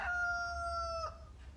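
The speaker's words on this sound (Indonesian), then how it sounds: "Ia pun berkokok dengan sangat keras" A single drawn-out rooster crow, clear and fairly close, ending abruptly with a faint tail.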